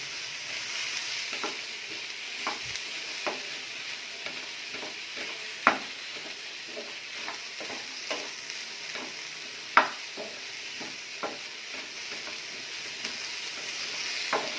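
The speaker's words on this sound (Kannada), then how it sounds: "ಒಂದ್ಸಲ ಇದನ್ನು ಚೆನ್ನಾಗಿ ಈಗ ನಾನು ಮಿಕ್ಸ್ ಮಾಡ್ಕೊತೀನಿ." Green chicken gravy with fresh coriander leaves is stirred and fried in a pan: a steady low sizzle runs throughout, broken by irregular scraping strokes and a couple of sharper clinks of the spoon against the pan, with no talking.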